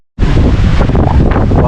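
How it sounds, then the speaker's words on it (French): Strong wind buffets the microphone aboard a sailboat at sea, about 15 knots on the beam with a calm sea, a loud, steady roar with faint water wash beneath. "On a 15 nœuds de vent de travers."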